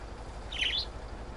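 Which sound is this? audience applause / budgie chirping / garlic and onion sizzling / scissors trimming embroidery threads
budgie chirping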